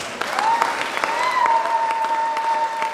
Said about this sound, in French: on l'acclame très très fort